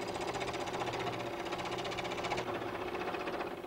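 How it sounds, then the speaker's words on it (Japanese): A scroll saw cuts out the roof piece of a traditional wooden Buddhist altar, its blade chattering in a rapid, steady buzz up close, with the pitch and texture shifting slightly partway through. "屋根の部分をミシンで切り抜きます。"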